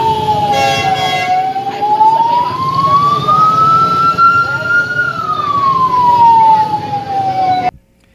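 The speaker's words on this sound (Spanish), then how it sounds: "Se escuchaban las sirenas de las patrullas policiales que participaban en el operativo." A loud wailing police patrol car siren rises and falls slowly in pitch over traffic rumble, close by, cutting off abruptly at the end.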